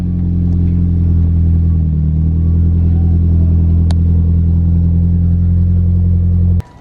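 A Mitsubishi Lancer's engine idles steadily after being started, a loud, even low rumble that holds for several seconds before cutting off abruptly, with a single click partway through.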